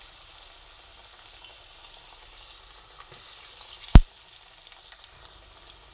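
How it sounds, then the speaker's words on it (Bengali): Taro fritters (gathi kochur dhoka) dropped one by one into hot oil, a soft steady sizzle swelling briefly with a sharp clack of a utensil partway through, near and fairly quiet. "এক এক করে তেলের মধ্যে ধোকাগুলোকে দিয়ে ভেজে নিচ্ছি"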